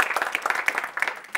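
A school audience gives a short round of applause, quick uneven claps from a modest group heard at moderate distance, fairly soft overall.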